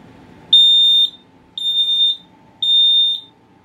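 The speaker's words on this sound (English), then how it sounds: "this smoke alarm does not have a good special announcement" A household smoke alarm sounds three loud, piercing beeps indoors, each about half a second long and evenly spaced. Faint murmuring can be heard before the first beep.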